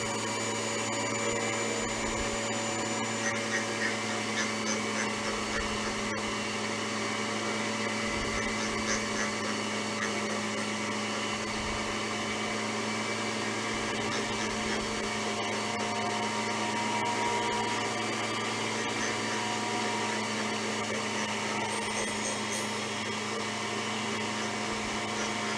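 A grinding wheel sweeps back and forth across a valve face on a Waterloo Boy 5HP engine, giving a steady close high-pitched motor whine with faint scraping, alone without talk.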